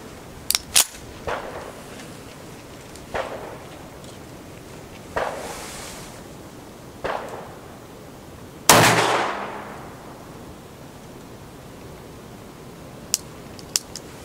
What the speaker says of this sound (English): we're going to start by shooting at a pretty good distance